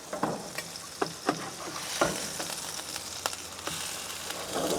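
Burgers sear in a hot pan, a steady low sizzle with occasional sharper crackles and pops from the fat, fairly quiet and close, with no voices.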